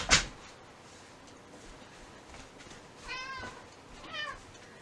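A cat meows twice, short rising calls a second apart, fairly faint in a quiet room after a sharp knock or door sound at the start.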